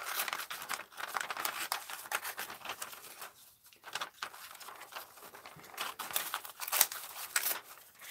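Scissors snipping around a beaver picture in a magazine page for an art journal, a steady run of close, papery crinkly cuts and rustles with a brief pause midway.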